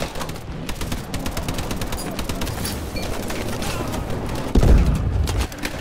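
Dense rattling gunfire in Call of Duty: Advanced Warfare, a fast, continuous stream of shots with a heavier thump near the end, set against steady game ambience.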